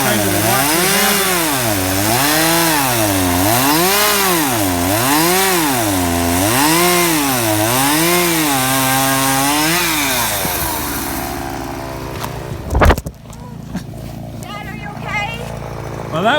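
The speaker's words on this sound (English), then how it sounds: "This is actually Danielle's first hour cutting with a chainsaw." A chainsaw cuts logs, its engine rising and falling in a steady rhythmic wail of repeated revs, loud and close, then dropping to idle with a brief sharp crack and thud as wood falls.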